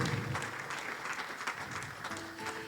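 An audience claps through a church testimony service, a steady, fairly faint patter of applause with a few louder bursts and no clear talk.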